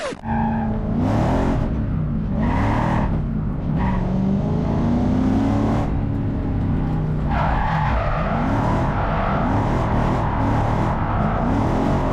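A drift car on a test run without its alternator at a Drift Open event, with an engine revving and rising in pitch, tyres skidding and squealing, loud and continuous throughout.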